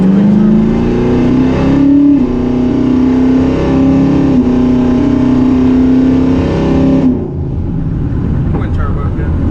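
Modified Chevrolet Camaro SS V8 engine revving loudly, a sustained, throaty, rising drone held for several seconds before it abruptly drops off to idle, with a person talking nearby.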